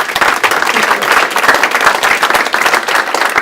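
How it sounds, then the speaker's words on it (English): An audience at a county election candidates' forum in Mariposa County claps in sustained, dense applause, loud and close, with no break across the stretch. "Let's give them applause"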